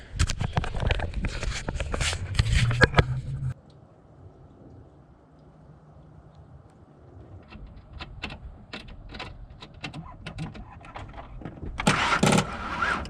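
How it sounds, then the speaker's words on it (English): A car engine cranks over without catching, a loud, rough churning burst for about three seconds, then a quiet lull followed by scattered clicks and knocks. "Watch the motor turn over."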